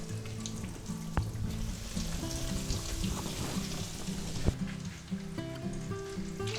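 Breaded chicken cutlets frying in oil, a steady crackling sizzle with light pops, heard up close under faint background tones, with one sharper tap midway.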